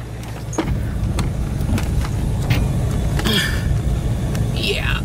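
An RV rumbles along a rough, hairy road with a steady low engine and road drone, plus scattered knocks and rattles from the jolting cabin. A person speaks briefly over the noise.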